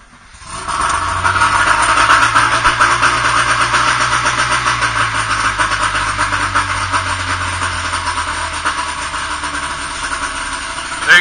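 An outboard motor on a 1992 Klamath boat catches after about a second and settles into a loud, steady running drone close by, with no speech over it.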